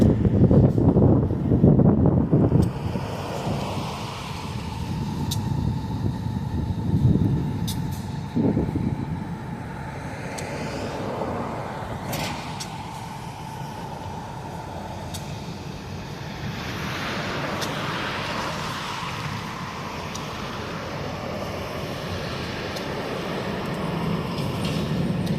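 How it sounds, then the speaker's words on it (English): A train passes a railroad crossing with a continuous, rumbling roar of wheels and rushing wind, steady throughout and moderately distant, broken by occasional sharp clanks. "See if we're going to get a railroad crossing in action here."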